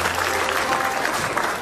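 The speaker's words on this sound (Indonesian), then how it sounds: "tepuk tangan dulu." Loud, close audience applause at an Indonesian comedy show, a dense burst of clapping with some crowd noise mixed in.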